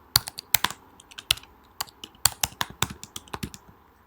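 An account name and password are typed on a computer keyboard: a quick, uneven run of sharp key clicks, close up and clear, with short pauses between bursts and no talking.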